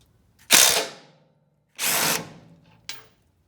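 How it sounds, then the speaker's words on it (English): Transmission mount bolts on a 2014 Ram 1500 with the 8-speed transmission are loosened with a 15 mm socket on a power tool. Three close, loud bursts sound: two longer whirring runs about a second apart, then a short final burst. "There's 2 bolts that will loosen the tranny mount."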